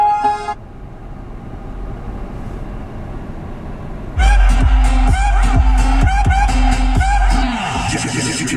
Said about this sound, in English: this vehicle does come with Sirius XM satellite radio, as aforementioned. And you're listening to Jack